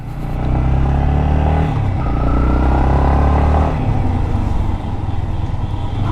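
A Yamaha MT15 motorcycle ridden through city traffic, its engine droning steadily and loudly with rumbling road and wind noise, a brief rise in pitch midway, then easing off.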